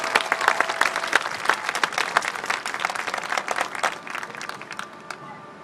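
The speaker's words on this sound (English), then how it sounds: "Give them a round of applause" An audience applauds a band at a 2013 band event, a crowd's dense, crackling hand clapping that holds steady and then tapers off toward the end.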